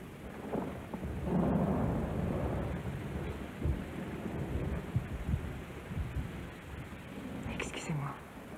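Rain hisses steadily with low rumbling thunder rolling in the background, a dark, muffled storm ambience heard indoors, with soft voices murmuring faintly beneath it.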